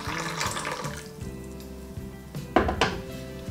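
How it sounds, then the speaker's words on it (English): Water poured from a relatively high point into a gong fu tea vessel splashes and trickles in short bursts, with a sharper splash near the end, close and clear with no talking. "you are going to pour water right in the middle from a relatively high"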